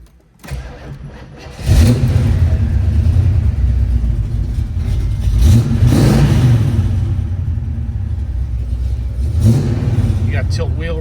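A 1979 Pontiac Trans Am V8 cranks and catches, then settles into a loud, steady rumble with a couple of revs swelling and falling, heard close up while someone talks over it.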